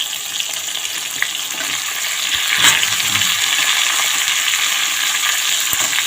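Flat beans and eggplant fry in oil in a pan with turmeric, giving a steady, close, dense sizzle with scattered stirring clicks; the hiss swells briefly partway through.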